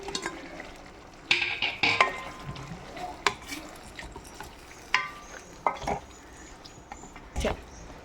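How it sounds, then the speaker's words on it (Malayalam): Dried shark, soaked to remove salt, drops into a boiling pickle mixture on lowered heat, bringing a series of sharp utensil clinks and stirring clatters over a faint, steady sizzle. "തിളച്ച് കഴിയുമ്പോൾ തീ കുറച്ച് വെച്ച് ഉണക്കമീൻ അതിലേക്ക് ഇടുക"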